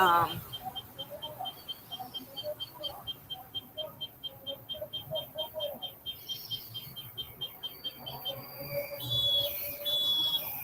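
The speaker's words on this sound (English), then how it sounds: "Okay, that's a bird." A rapid series of high, repeated bird chirps in Colombia, faint and steady, followed by a few longer whistled notes near the end.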